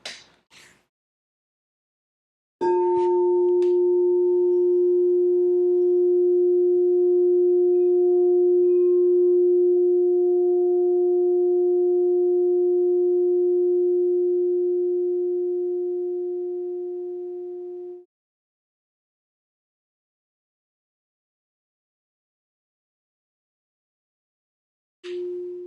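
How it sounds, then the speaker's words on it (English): A heart chakra crystal singing bowl rings out alone in a quiet space, a single pure sustained tone with a soft overtone, swelling after the strike, holding steady for about fifteen seconds, then cutting off, with a brief new ring at the end. "Now receive this crystal bowl"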